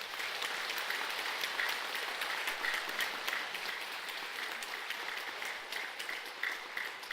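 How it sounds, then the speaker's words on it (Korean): Sustained applause from a large crowd, many hands clapping steadily at an even level for several seconds, heard from a distance. "큰 박수를 큰 스님께 올려드립시다"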